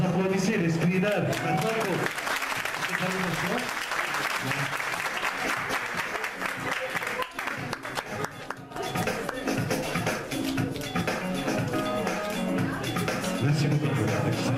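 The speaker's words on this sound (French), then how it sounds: "Vous applaudissez les screeners." An audience at a training-closure ceremony for screeners at an oncology institute in Batna applauds steadily for a long stretch, the clapping dipping briefly midway, with voices talking over it at times.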